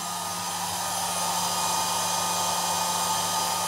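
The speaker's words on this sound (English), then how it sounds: "A Braun travel hairdryer." A small Braun travel hair dryer whirs steadily and loudly at close range, its constant fan hiss and motor hum unbroken throughout.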